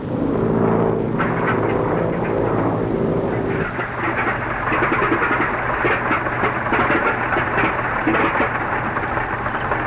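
A plane's engine sputtering and faltering in flight on the approach to an island, heard as a loud, continuous droning rumble with a steady low hum that shifts partway through, no voices over it.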